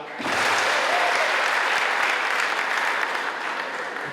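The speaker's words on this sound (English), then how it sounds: "Give yourselves a clap." Crowd at the launch of a Pan African Institute breaks into loud, sustained applause, a dense wash of many hands clapping that holds steady for several seconds and tapers slightly at the end.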